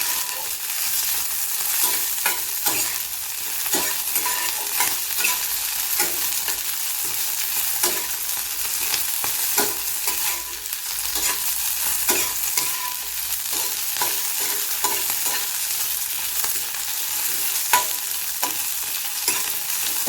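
Guar beans and whole unpeeled garlic dry-roasting in a pan, with steady close stirring and scraping over a soft continuous sizzle, alone and without talk for the whole stretch.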